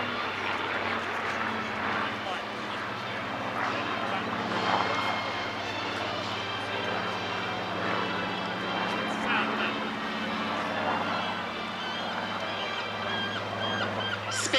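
Supermarine Spitfire fighter flying over the Clacton Airshow, a steady, sustained engine drone throughout with a constant hum and no sharp changes, heard beneath continuous commentary.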